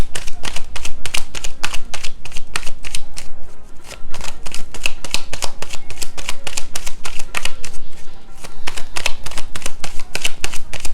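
Tarot cards being shuffled in a long run of crisp, rapid riffling clicks, loud and close, with no voices over them.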